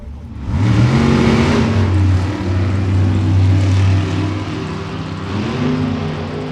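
A Ford Maverick drag car with a 557 cubic inch big block roars up close and loud, its engine note rising and holding in a heavy, sustained wail before easing slightly.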